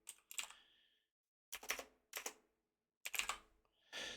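Short bursts of typing on a computer keyboard, close and fairly quiet, with clusters of key clicks separated by brief silences.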